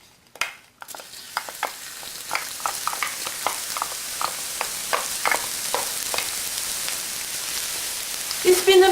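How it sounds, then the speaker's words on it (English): Garlic hits hot oil with a sharp burst, then a steady frying sizzle builds, broken by a regular series of scraping stirs from a utensil, close and moderately loud, with no talking. "We're going to add garlic to cook for 1 minute until the garlic is browned."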